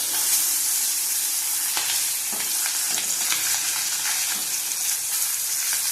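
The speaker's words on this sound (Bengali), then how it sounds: "আর একটু ভেজে নেবো, কাঁচা আছে। দেখো মাছ ভাজা হয়ে গেছে সব।" Pabda fish fries in a pan with a loud, continuous close-up hiss of spitting oil and a few soft stirring knocks, with no one speaking.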